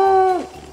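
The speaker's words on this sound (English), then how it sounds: "he's barking into the woods when we're about to go to sleep" A single dog's drawn-out, tonal howl or whine carries out into the woods at night, sustained for a moment before dipping in pitch and fading, fairly loud and close with no talk over it.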